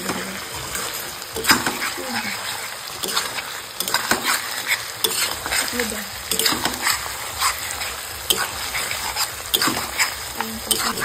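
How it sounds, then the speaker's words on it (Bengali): Mutton and spices fry in oil for a bhuna curry, sizzling steadily while a spoon scrapes and stirs the pan in repeated bursts, up close; a person talks intermittently over the cooking. "দেখো ভালোভাবে মেশাতে হবে, তেল কিন্তু ছাড়ছে আবার তেল কিন্তু শুকিয়ে যাচ্ছে"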